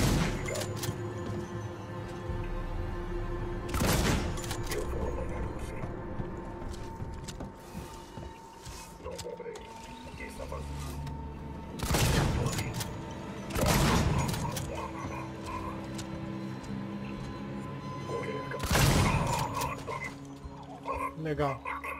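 Gunshots in the horror video game Alien: Isolation, several sharp loud blasts spaced irregularly over a murky ambient game soundscape, with a player talking now and then between shots.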